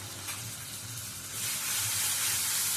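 A paste of poppy seed, onion, green chili and sesame hits hot oil tempered with nigella seeds and sizzles, a close steady hiss that swells louder and brighter halfway through and keeps frying without any talk.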